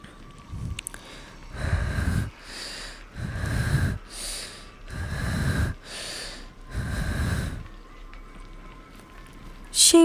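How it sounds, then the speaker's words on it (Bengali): Heavy, rhythmic breathing close up: about five long, rasping breaths in steady succession, each separated by a short pause. "জোরে নিঃশ্বাস নিতে লাগলাম আমি"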